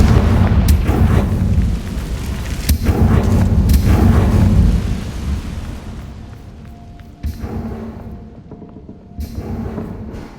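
A Confringo fire spell explodes in Hogwarts Legacy, a loud booming blast with crackling bursts that rumbles for several seconds before fading into quieter ambience with a few later pops.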